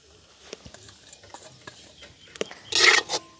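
Pittu kothu being stirred and tossed in a pan with fried eggplant and potato: scattered scraping and tapping clinks, then a short loud sizzling burst near the end.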